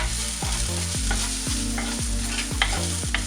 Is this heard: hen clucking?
no